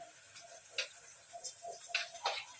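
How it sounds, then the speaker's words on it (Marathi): Mustard seeds crackle in hot oil in a pressure cooker, sounding as quiet, irregular pops and ticks scattered over a near-silent background, with no speech. "मोहरी तडतडली"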